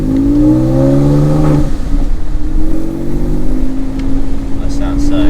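A Porsche 996 Carrera 4S exhaust rises loudly in pitch as the engine revs, with a short break near the start and then a steady climb, while voices talk over it.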